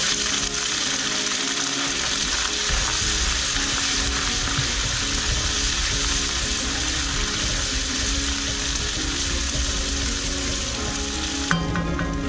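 Ginger garlic paste frying in a pan for a chicken karahi, a steady loud sizzle with crackling spatters and stirring that continues throughout with no voices.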